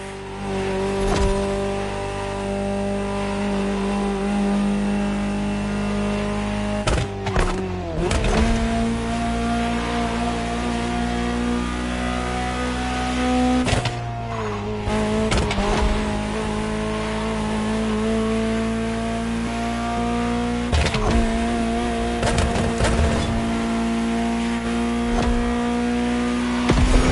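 Ferrari supercar engine in The Crew Motorfest, droning steadily and loud through a long drive, rising and falling in pitch with gear shifts and bursts of revving, with faint tire noise now and then and no talking.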